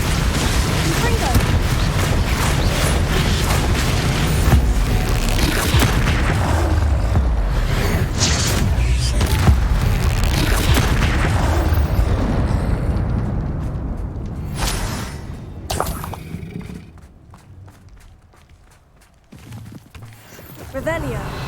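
Repeated blasting-curse explosions from Hogwarts Legacy boom loudly in a dense barrage of booms and crackles, then thin out into scattered bursts and quieter gaps.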